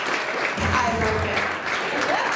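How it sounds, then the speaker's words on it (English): A crowd at a live comedy show in a country club applauds continuously, a dense wash of clapping with some cheering mixed in throughout. "that's the applause we're looking for"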